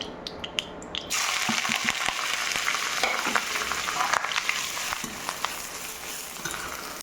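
Onion hits hot oil in a kadai with an abrupt, loud sizzle that settles into steady crackling frying, with occasional clicks and pops from stirring; a few soft knocks come just before the sizzle starts.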